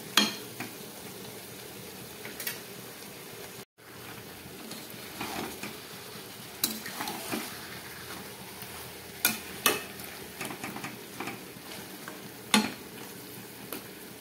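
Spicy Bengali-style chicken curry simmers and boils in a pan, giving a steady low bubbling sizzle with scattered sharp pops and occasional utensil clinks, close and moderately loud, with no voices.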